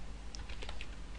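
Keys clatter on a computer keyboard in a short burst of close, quiet typing, several light taps at an uneven rhythm with no voice.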